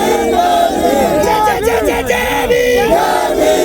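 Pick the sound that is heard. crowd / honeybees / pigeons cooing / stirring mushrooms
crowd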